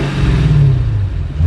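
A Lexus IS F V8 engine with the muffler deleted hums loudly and steadily with a low rumble that rises slightly in pitch as it revs, with no talking.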